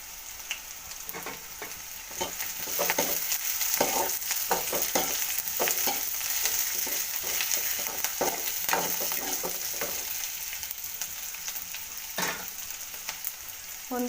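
Curry leaves frying in a pan for a traditional fish curry, a steady loud sizzle running throughout with faint scraping stirs over it.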